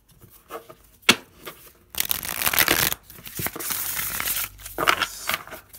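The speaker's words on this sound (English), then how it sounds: "Now, let me try and riffle shuffle these." Stiff new tarot cards are riffle shuffled by hand, a quick crisp flutter of cards cascading together followed by softer shuffling and squaring, close up and alone.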